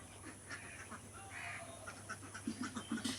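Farm ducks waiting for food, giving a run of nasal quacks that grow more frequent toward the end, faint and nearby with no voices.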